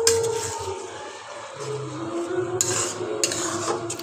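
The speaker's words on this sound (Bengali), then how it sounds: "মশলাটা পুরোটা দিয়ে দিচ্ছি, দিয়ে ভালো করে নাড়িয়ে চাড়িয়ে নেব।" A spoon stirs a ground chili and cumin spice paste around a cooking pan, making steady scraping and shuffling close by with faint sizzling underneath and no talking.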